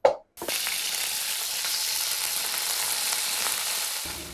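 A brief clatter, then loud, continuous sizzling and crackling of ivy gourd frying in hot oil with spice masala, with occasional stirring scrapes.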